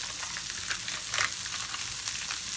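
Vegetables sautéing in leftover fat in a pan, a soft continuous sizzle and crackle with a few brief stirring scrapes, fairly quiet and close.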